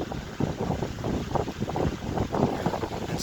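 An antique Robbins and Myers 1153 six-blade table fan runs with a four-pole motor, giving a steady close whooshing rush of moving air with a low fluttering hum.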